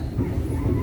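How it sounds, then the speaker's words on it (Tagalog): A small dog at a train station in Latina, Lazio, Italy gives a short, muffled yelp over a steady low rumble of station noise. "Pero maliit na aso doon."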